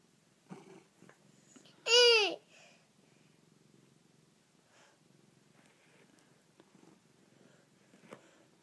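A gentle cat purrs as a low, soft rumble through the whole stretch, with a brief loud high-pitched vocal burst near the start and a few faint knocks and rustles around it.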